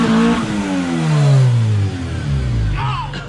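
Loud car engine revving up and down close by, its pitch climbing and falling through a strong rise before easing back, with a brief voice breaking in near the end.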